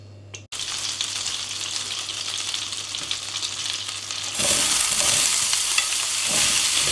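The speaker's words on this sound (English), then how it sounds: "And then we're going to fry the asparagus pieces in it." Asparagus pieces fry in butter and olive oil in a pan, giving a steady, close sizzle that grows louder and denser partway through, with no talking.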